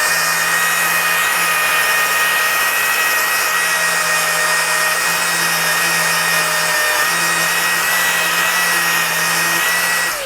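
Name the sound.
polishing a knife blade with 120 grit abrasive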